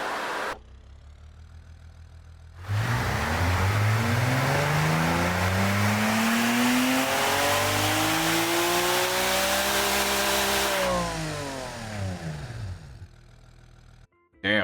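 An inline-six engine with a 4-inch exhaust in the car-building game Automation revs up loudly and holds a high, rising and falling roar for several seconds before dropping back to idle.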